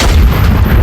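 A heavy turret gun fires in the Iron Nest simulator, one loud, deep booming blast that fills the whole clip with dense low rumble.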